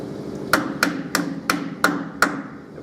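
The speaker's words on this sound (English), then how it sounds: "we're going to use the wheel weight hammer" Six crisp metallic taps from a wheel weight hammer drive a clip-on weight onto a steel wheel rim on a Hunter DSP 9500 wheel balancer. The strikes land at an even pace, close and sharp, each with a brief ringing tail.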